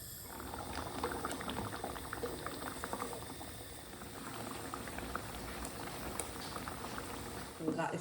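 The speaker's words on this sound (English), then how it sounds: "we'll leave it to come up to heat, start bubbling away" Arrabbiata sauce bubbles steadily in a pan as it heats, a dense continuous simmer of small pops and gurgles at close range, with a brief louder stir or clatter near the end.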